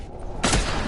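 A gunshot in The Last of Us blasts out loud and close about halfway through, a single broadband boom with a rumbling tail, preceded by quiet low background.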